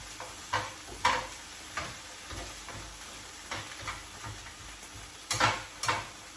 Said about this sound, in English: just stirring it around, just until it's all nicely softened